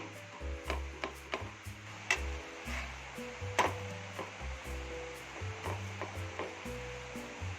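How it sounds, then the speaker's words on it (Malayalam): Banana chapati dough cooking on a hot dosa griddle over a low flame: a soft steady sizzle under a low hum, with scattered light taps and scrapes. "ഇത് നമുക്കൊരു ദോശക്കല്ലിലിട്ട് ചുട്ടെടുക്കാം. ഇത് നമുക്ക് ചെറിയ തീയിലിട്ട് ചുട്ടെടുക്കണേ."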